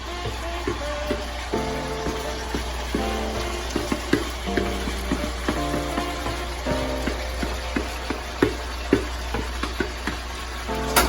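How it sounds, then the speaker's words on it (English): Onions, green peppers and shallots sauté in a hot pan with a steady loud sizzle and frequent clicking utensil scrapes and stirs throughout, close up with no talking. "And let it saute. The onions in the pan."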